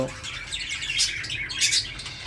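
English budgerigars, a larger and showier budgie type, chirp in a busy flurry of short high tweets and warbles at moderate distance, with no speech.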